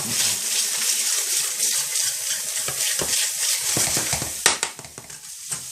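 A vegetarian BIR-style Madras curry sauce bubbles and sizzles steadily in a pan, with soft stirring scrapes throughout and a sharper clatter of the utensil near the end.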